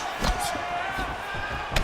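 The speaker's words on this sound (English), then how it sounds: "Nice body shot there." In EA Sports UFC 5, a body-shot punch lands as a dull slam-like thud, with a second impact near the end, over low arena ambience and what sounds like commentary.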